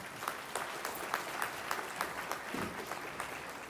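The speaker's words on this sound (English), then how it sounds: "Let's give a big round of applause to all the prize winners." Sustained crowd applause for prize winners at a department degree ceremony, a steady even patter of many hands at moderate level throughout.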